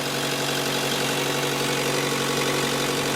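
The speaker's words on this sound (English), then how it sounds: "Engine is running." Gasoline range-extender engine of a first-generation Chevy Volt idling with the hood open, a steady continuous drone with constant hum and no variation, close by and unaccompanied by voices.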